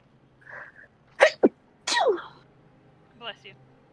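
A single person's sneeze, a short sharp burst with a gasping intake just before, among a few quiet vocal sounds from people nearby.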